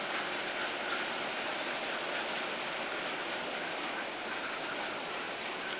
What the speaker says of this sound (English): There's a hailstorm going on.